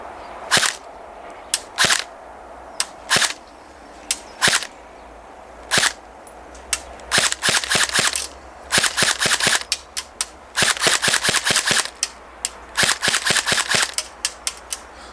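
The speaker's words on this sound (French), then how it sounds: "On va tirer sur le Papa Noël histoire de voir ce que ça donne." An airsoft MP7 fires at a Santa Claus target: sharp single shots at first, then rapid full-auto bursts of snappy cracks, close and loud with no talking.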